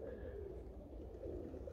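Budapest highflyer pigeons coo at a pigeon loft, soft repeated low coos over a quiet outdoor background.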